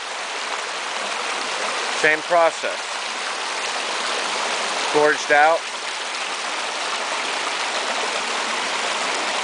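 Brook trout stream water runs steadily over placed restoration rock sections, a constant rushing flow that fills the whole stretch while someone speaks briefly twice over it.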